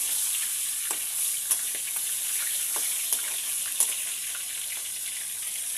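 Fresh fish frying in hot oil, a steady close hiss and crackle with small pops scattered through it, running on alone with no talk.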